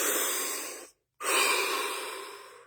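A deep breath taken during a guided relaxation session, a long, steady, airy inhale, a brief pause, then a slow, drawn-out exhale, close and alone.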